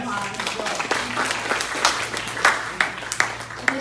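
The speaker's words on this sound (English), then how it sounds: "Let's give them another round of applause." A panel-session audience gives a round of applause, scattered claps with a few sharp close ones, mixed with voices.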